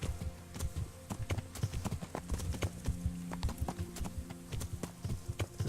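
Hooves of a horse in the video game Kingdom Come: Deliverance clip-clop in a quick, steady galloping rhythm, close and clear, with faint game ambience beneath.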